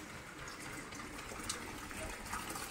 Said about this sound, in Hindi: अभी पानी आ रहा है तो मैं पानी भर लेती हूँ।